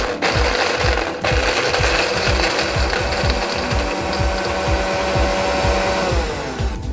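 A kitchen blender grinds walnuts and cashews with a little milk, a loud continuous motor whir with a rapid, pulsing churn throughout, slowing slightly near the end.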